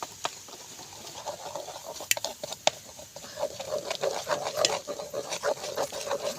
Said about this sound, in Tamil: இப்படித்தான் ரவையில் உப்புமா கிண்டலாம்